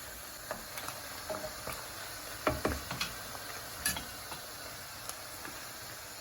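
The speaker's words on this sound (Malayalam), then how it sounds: "മീൻ നന്നായിട്ട് ഡ്രൈ ആയിട്ട് വറക്കണം" Fish frying in hot oil until dry and deep brown for a Kerala-style fish pickle, a faint, steady crackle and sizzle broken by a few sharper pops and scraping ticks as the pieces are stirred.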